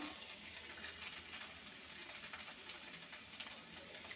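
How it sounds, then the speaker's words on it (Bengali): Cumin paste fries in a pan with a soft, steady sizzle that stays faint and continuous, with no talk. "জিরা বাটা ভালোভাবে একটু কষিয়ে নেব"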